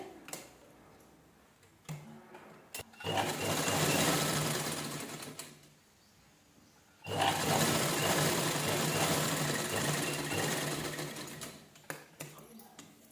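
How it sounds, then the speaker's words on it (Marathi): A sewing machine stitches the front neckline of an unlined princess-cut blouse, running in two long close whirring bursts with quieter handling and ticks in between. "जसा आकार आहे असा व्यवस्थित ठेवून घ्यायचा आणि स्टिच करून घ्यायचं"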